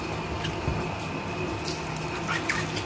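Tap water runs steadily over green mustard being washed in a sink, a continuous close splashing hiss with small bursts as the leaves are moved under the stream, no voices.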